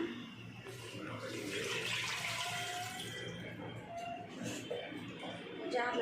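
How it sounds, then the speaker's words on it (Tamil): Water pours steadily into a pot of country chicken curry, a faint continuous splashing with soft background noise and occasional clinks. "குழம்புக்கு தேவையான தண்ணி ஊற்றிக்கலாம்"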